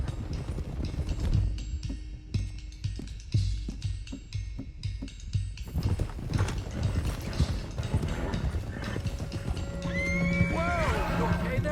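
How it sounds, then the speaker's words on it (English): Horses in Red Dead Redemption 2 whinny and neigh loudly while hooves clip-clop in a steady, busy rhythm, with voices talking over the game sounds throughout. "let's get these horses to Clemens Cove quick before we run into any more trouble."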